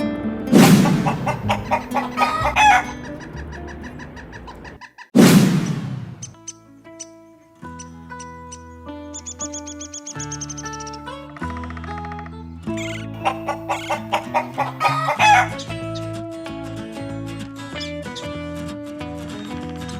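An animated rooster clucks and crows in several loud bursts, mixed with cartoon music and sound effects, with no speech over it.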